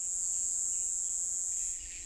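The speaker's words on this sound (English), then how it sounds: "The cicadas are in song." Cicadas sing in a Madagascar jungle, a steady, loud, high-pitched drone that holds unbroken throughout with no voices.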